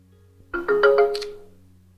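A mobile phone chimes for an incoming OTP message: a short run of four or five bright ascending electronic tones, clear and close over a faint low hum.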